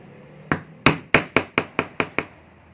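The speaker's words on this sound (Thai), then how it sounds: "ใช้อุปกรณ์การตอกนะครับเพื่อจะบานหัวให้มันแน่นตอกย้ำลงไปให้หัวมันบานออก" A hammer strikes a metal setting tool to flare a snap button cap, eight sharp, close taps in quick succession with brief ringing decays.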